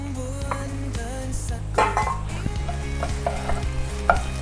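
Garlic stir-fried in a hot pan with a spatula, steady sizzle under repeated scraping and clanking of the utensil against the pan, close and busy.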